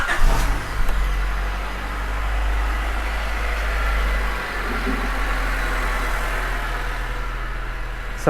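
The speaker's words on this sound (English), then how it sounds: "So I'll just go start the car." A car engine, just treated with an engine flush, cranks and starts, then settles into a steady low idle that hums on evenly, with a brief dip midway and a sharp click near the end.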